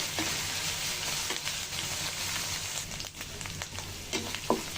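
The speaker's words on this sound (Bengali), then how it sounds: "পেঁয়াজ বাটাটা ভালো করে ভাজা হয়ে গেছে" Onion paste frying in a pan for mustard hilsa, heard as a continuous soft sizzle with a few stirring scrapes, close but quiet, with no voices.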